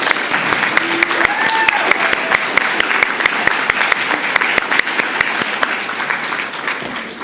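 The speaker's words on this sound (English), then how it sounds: "give you a round of applause" A room at a university student awards ceremony applauds faculty and staff with loud, close clapping, distinct sharp claps standing out over a steady roar, a brief whistle-like tone rising early on.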